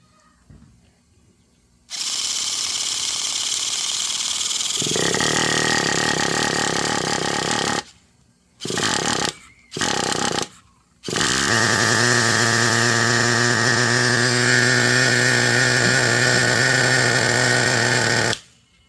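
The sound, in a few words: small engine running after priming with easy start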